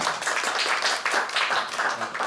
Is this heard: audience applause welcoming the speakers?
yes